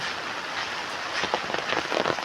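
Rain hisses steadily, growing slightly heavier with a spattering on a surface toward the end.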